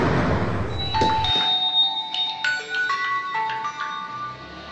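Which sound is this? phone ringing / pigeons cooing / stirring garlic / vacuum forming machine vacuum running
phone ringing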